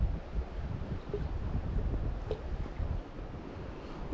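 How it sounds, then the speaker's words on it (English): Wind picking up beside a river while steelhead fishing, a steady low rushing buffet with microphone rumble throughout, fairly loud and continuous with no speech. "Wind's starting to pick up a little here too."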